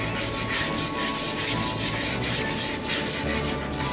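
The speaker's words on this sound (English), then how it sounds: "So I'm back sanding them for the second time." Wooden piano bench sanded by hand, a continuous rhythmic scratchy rubbing of abrasive paper across the wood grain, close and steady with regular back-and-forth strokes.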